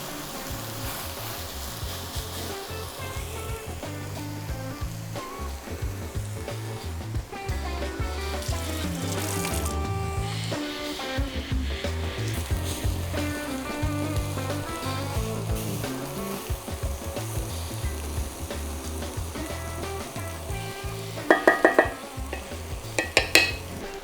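A pork chop sizzling and frying in a pan of caramelized onions, with steady crackling and occasional stirring and utensil scrapes, close and continuous with no talk.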